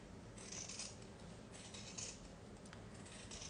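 Scissors trim the fabric edges of a quilting project: a quiet series of close, crisp snipping cuts repeating in an uneven rhythm, with no talking.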